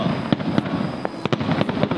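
Fireworks go off during the Silver Week holiday in Kyushu, Japan, as a rapid string of sharp cracks and pops over a steady crackling rumble.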